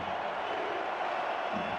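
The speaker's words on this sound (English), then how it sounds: "Crowd on their feet here in Pittsburgh." A football stadium crowd in Pittsburgh roars steadily on a third down, a dense, continuous wash of cheering with no clear voices standing out.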